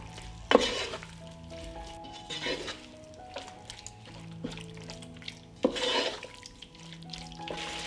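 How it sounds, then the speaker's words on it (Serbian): Meat frying together with paprika in a hot pan, a steady sizzle with occasional stirring scrapes and utensil clinks against the pan, close and moderately loud, no talking. "Zatim dodajem meso i sve ću ovo pržiti zajedno 5 minuta."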